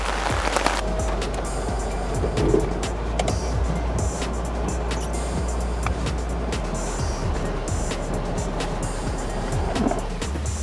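A Mahindra Bolero Neo creeps downhill off-road on a hill track in first gear. A constant low drivetrain hum runs beneath frequent rattles, knocks and crunches from the rough surface.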